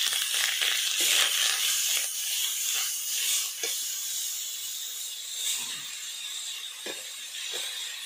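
Grated pointed gourd (potol) hitting a hot pan, a steady bright sizzle and hiss with soft scraping crackles, close and continuous, no talking.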